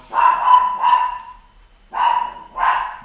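A dog barks in two pairs of loud, close barks, with a short quiet gap between the pairs.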